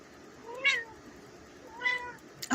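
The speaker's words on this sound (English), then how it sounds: "My cat's trying to steal my phone." A pet cat meows twice indoors, close and fairly soft, each call short and rising, about a second apart, in an otherwise quiet room.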